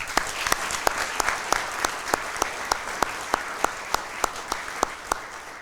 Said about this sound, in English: Let's give another round of applause to Catholic's ER staff.